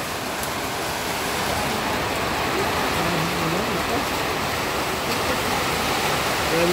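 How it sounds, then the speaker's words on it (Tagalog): Heavy typhoon rain roars steadily and loudly, a dense unbroken hiss with no pauses. "Ulan to, masyadong malakas ang ulan dito."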